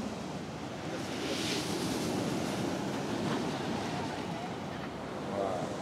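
Steady roar of ocean surf washing on the beach at Blackpool, loud and continuous with wind buffeting the microphone.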